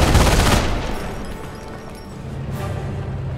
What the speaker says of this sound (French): On réduit les tirs d'armes automatiques.